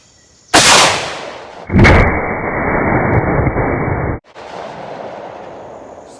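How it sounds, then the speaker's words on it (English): Two loud, close gunshots about a second apart, each a sharp broadband blast, the second trailing into a long sustained ring before it cuts off and quieter outdoor ambience returns. "Firing."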